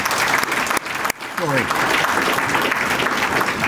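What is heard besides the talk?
audience applause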